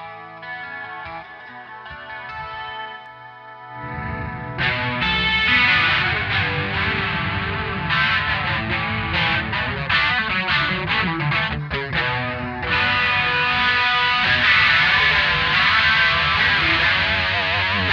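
A Peavey HP2 electric guitar played with distortion turned all the way up: a quieter picked passage at first, then loud, thick, sustained distorted chords and riffs with rhythmic accents that continue to the end.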